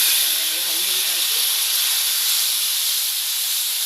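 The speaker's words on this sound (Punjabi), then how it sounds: "ਹੁਣ ਆਪਾਂ ਇਹਦੇ ਵਿੱਚ ਜਿਹੜਾ ਪਾਣੀ ਗਰਮ ਕਰਿਆ ਹੋਇਆ ਆਪਾਂ ਉਹ ਪਾਵਾਂਗੇ" Hot water poured into roasted semolina halwa in a pan, giving a loud, steady hiss of steam and sizzling that runs without a break, with faint voice-like sounds under it at the start.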